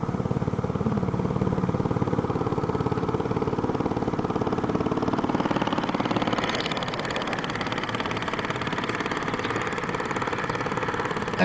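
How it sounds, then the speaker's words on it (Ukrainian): An old walk-behind tractor engine runs steadily, a loud, close, chugging mechanical drone with a constant rhythmic pulse that shifts slightly in tone midway, heard alone. "Ну а це бачимо теж дуже такий старий мотоблок. І він досі працює."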